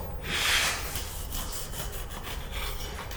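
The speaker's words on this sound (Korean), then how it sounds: "그리고 파운드 틀에 단 것도 한번 잘라 볼까요?" A knife cuts through a coffee cake baked in a pound loaf pan, giving a soft rasping, sawing scrape at close range that swells early and then continues as a steady, quieter rub.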